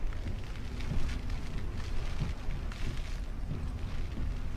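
Heavy Hurricane Harvey rain hits a car through an open window, a loud, constant dense roar of pelting water with gusty swells and no talking.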